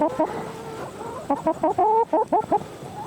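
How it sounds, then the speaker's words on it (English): A hen clucks in a quick series of short, stuttering calls, close by, with a few softer notes at the start and light background noise. "There's the hen."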